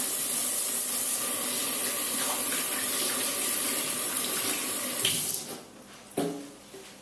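Hands being washed under a running tap at a sink after cooking ribs, a loud steady rush of water with rubbing, which cuts off near the end, followed by a couple of drips and splashes.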